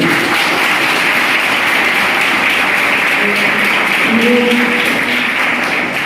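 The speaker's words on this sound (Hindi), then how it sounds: "एक बार सर के लिए जोरदार ताली होनी चाहिए।" A crowd claps loudly and steadily for about six seconds, a dense, sustained round of applause with a faint hum underneath.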